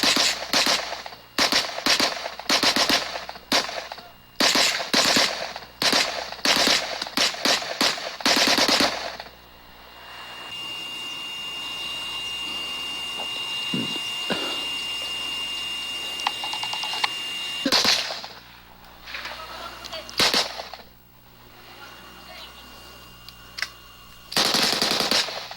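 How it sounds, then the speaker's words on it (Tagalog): Machine gun fire during a military all-out offensive against BIFF fighters: sharp bursts of rapid shots crack out close and loud, pause for a long stretch of rumbling outdoor noise, then resume in scattered volleys. "Ang sumunod, putok na ng mga machine gun."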